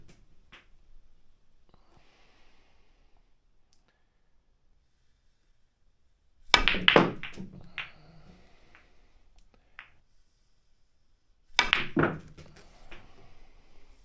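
Snooker cue ball strikes and balls clacking into one another and dropping into pockets, two sharp close clusters of knocks about five seconds apart, in an otherwise quiet room.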